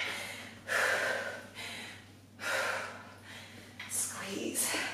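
Three deep exhalations during a workout exercise, each a broad rush of breath about a second long, fairly close and alone, with gaps of quiet between them.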